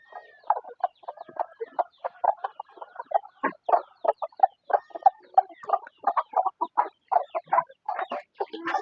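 Chickens in the chicken house of a small home farm cluck in quick, repeated bursts, many short calls overlapping at close range with no talk.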